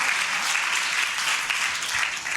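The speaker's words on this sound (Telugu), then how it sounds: "గట్టిగా చప్పట్లు కొడుతూ దేవునికి మహిమ చెల్లిద్దామా." A church congregation clapping loudly together, a dense, steady roar of applause filling the whole stretch without pause.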